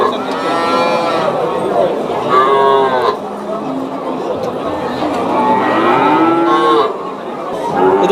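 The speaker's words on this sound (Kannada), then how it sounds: "ಇನ್ನೊಂದು ಮುದ್ದಾದ ಕರು ಇದೆ." A calf at a livestock fair moos loudly and repeatedly in long, drawn-out calls that fill the whole stretch, with a faint crowd murmur beneath.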